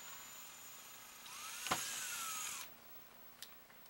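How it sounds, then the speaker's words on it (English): A small power drill bores a pilot hole while building a SnapBow plunger head and trigger, a faint whine rising for about a second and a half before cutting off, followed by a brief click. "We're going to drill another pilot hole"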